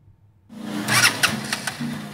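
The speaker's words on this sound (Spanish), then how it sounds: "la moto no me prende, queda así encendida, pero no da acelerador" A faulty motorcycle engine that starts and stays running but won't take throttle catches and idles roughly and unevenly, with a short burst of noise, close by.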